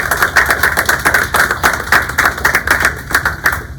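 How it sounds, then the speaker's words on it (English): A town hall audience applauding the dining services team, brisk rhythmic clapping that stays close and steady for several seconds with no talk over it. "let's give a round of applause to Matt Smith and the dining services team"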